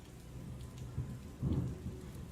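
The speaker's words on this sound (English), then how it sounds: "That was a loud thunder, wasn't it?" Low rumbling thunder rolls beneath steady rain, with a heavier boom swelling midway.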